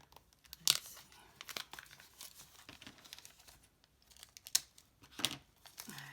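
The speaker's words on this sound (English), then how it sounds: "I need my paper snips" Small, sharp paper snips cut open packaging during an unboxing, with quiet, scattered crinkling, tearing and snipping sounds in short bursts amid near silence.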